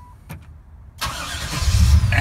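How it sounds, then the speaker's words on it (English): A car with an aftermarket push-button start fires up after a few faint clicks, its engine catching abruptly and settling into a loud, steady idle close by. "Push button start."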